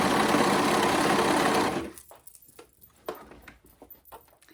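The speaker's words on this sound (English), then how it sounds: "top stitching, making sure that seam is sticking up as I'm going around to create that casing" Sewing machine top stitching a seam casing on a dress, a loud continuous motor hum that stops abruptly after about two seconds, followed by faint handling clicks and rustles.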